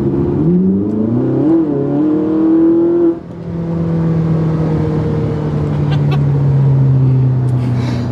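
A Ferrari engine revs while driving, its pitch climbing through a gear, dropping briefly at a shift, then holding a loud, steady, close drone.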